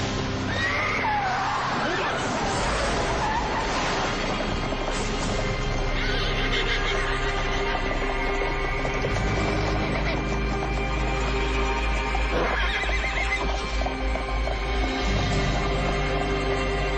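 Malnourished, underweight horses whinny and neigh repeatedly, loud and close, with hooves clopping underneath and a constant low rumble throughout.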